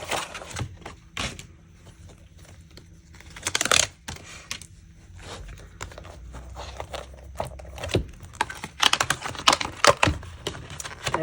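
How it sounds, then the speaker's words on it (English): Plastic shrink wrap being peeled and torn off a reading journal, giving a series of close, crinkly rustles and scrapes in uneven bursts, louder around the middle and toward the end, with no talking. "let's take the plastic off of this one"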